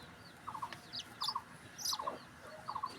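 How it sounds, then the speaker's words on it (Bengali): A chick peeps faintly from inside its egg before hatching, making short bursts of quick triple chirps about four times, quiet and close against a hushed background. "ডিমের মধ্যে বসে চিচি করতেছে।"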